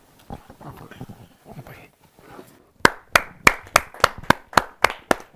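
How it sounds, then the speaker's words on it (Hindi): At a Hindi kavi sammelan poetry gathering, murmuring voices give way to a run of about a dozen sharp, evenly spaced hand claps, loud and near, in a steady rhythm. "और जोरदार ताली के साथ"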